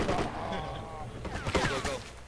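Enemy gunfire in a multiplayer shooter video game crackles as a steady, fairly distant volley under overlapping voices talking throughout.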